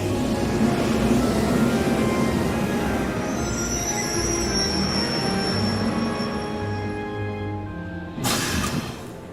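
Passenger train in the video game Trails of Cold Steel pulling into a station platform, a loud sustained rumble with high metallic wheel squeal and whistling tones, fading slightly before a sharp burst of hiss near the end.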